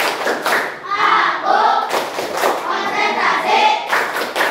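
Schoolchildren in a classroom do the tepuk konsentrasi routine, clapping in patterned bursts while chanting together, the claps and voices loud and close throughout.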